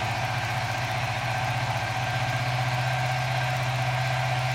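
Suzuki FU 150 FI fuel-injected motorcycle engine held at middle RPM, fitted with a GSX injector: a steady, close, throbbing engine drone with a fast even pulse and no talking.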